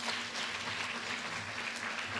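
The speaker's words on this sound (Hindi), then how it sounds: "और शोएब के लिए जोरदार तालियां बजाइए" Audience clapping for Shoaib at a drama workshop, a fairly faint, even wash of applause heard from a distance, continuous throughout the short stretch.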